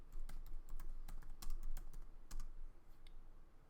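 Quick, uneven keystrokes clatter on a computer keyboard while an SQL table is written, close and fairly soft, with short bursts and brief pauses and no voices.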